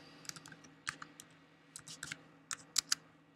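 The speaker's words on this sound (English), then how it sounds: "We're going to type in the password that we created" A password being typed on a computer keyboard, a quiet close series of irregular key clicks in short bursts, with near silence between them.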